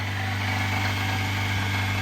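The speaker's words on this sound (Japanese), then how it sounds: "そのガタガタする音はエンジンの内部からなのか" Japanese kei truck engine idling up close with a steady low hum and continuous fine rattling vibration, loud and unchanging throughout.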